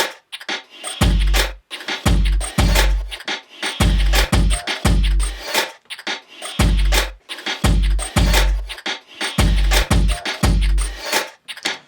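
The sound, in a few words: electronic drum beat with hi-hats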